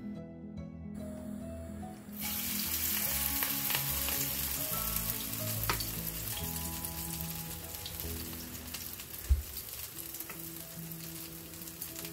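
Coriander leaf fritters fry in hot oil with a steady, dense crackling sizzle that holds evenly throughout, with no talking over it.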